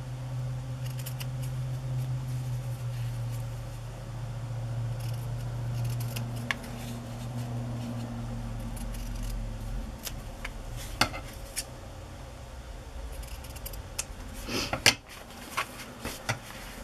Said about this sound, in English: I think I'm going to cut this one in a fishtail shape.